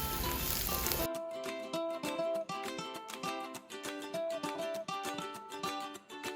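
Onions frying in a pan for spinach chicken curry give a loud, close sizzle for about a second before music takes over.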